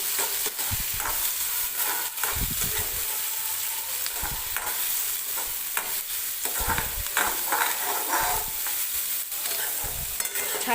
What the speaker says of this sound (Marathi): तर आता याच्यामध्येच मी टाकणार आहे आलं आणि लसूण आणि 2-3 हिरवी मिरची मी घेतली होती, ती सुद्धा मी कांद्यासोबतच भाजून घेणार आहे.